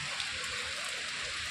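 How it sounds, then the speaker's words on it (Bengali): Heavy monsoon rain falls in a steady, dense hiss, even and unbroken throughout at moderate distance. "এখানে প্রচণ্ড বৃষ্টি হয়"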